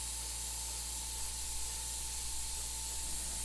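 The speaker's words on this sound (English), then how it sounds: "it doesn't look like I'm spraying much, but it's just enough to get that edge" Steady, continuous hiss of an airbrush spraying paint on a Darth Maul figure, a close, even spray with no pauses and no talking.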